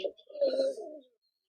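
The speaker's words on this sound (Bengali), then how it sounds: "আমি কবুতরটা আপনার একটু শো করতেছি" A Pakistani-breed flying pigeon gives a single soft, throaty coo, close by and fairly quiet, lasting about a second against near silence.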